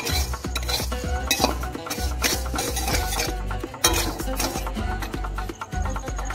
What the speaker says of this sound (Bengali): একটুখানি দেখে নাড়িয়ে তুলে নেবো